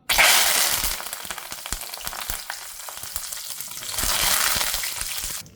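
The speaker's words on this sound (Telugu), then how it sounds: "అలానే కరివేపాకు కూడా ఫ్రై చేసేసుకుందాం." Curry leaves fry in hot oil in a pan for a homemade Andhra chicken karam podi, giving a loud, steady crackling sizzle with light stirring clicks, swelling again near the end.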